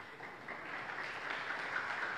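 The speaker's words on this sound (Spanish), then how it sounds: "Podemos aplaudirle al Señor, hermanos." A church congregation breaks into sustained applause, a dense, even wash of many hands clapping together at moderate distance, without talk over it.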